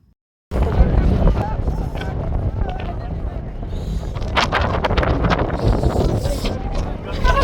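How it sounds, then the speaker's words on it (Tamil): A strong, steady wind roars on a snowy mountain in Gulmarg, Kashmir, as a constant loud buffeting that starts abruptly and continues without a break. There is no talking. "கிளைமேட் அப்படி நிறைய காற்று அடிக்க ஆரம்பிச்சிருச்சு, பலமான காற்று"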